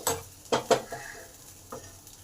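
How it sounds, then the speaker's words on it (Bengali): Lemon juice is stirred into okra peanut masala fry in a pan, giving a few quick spoon scrapes and taps over a faint sizzle. "এবার লেবুর রসটা খুব ভালো করে ভেন্ডির মধ্যে মিশিয়ে দেবেন"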